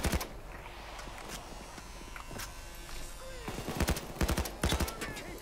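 Gunfire in the video game PAYDAY 2, with scattered sharp shots early on, then a cluster of loud rapid bursts toward the end over a low background rumble.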